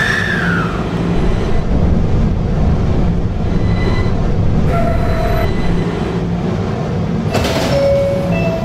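A subway train, an E train, rumbles steadily along the tracks, with squeals and a couple of brief electronic tones over the continuous roar.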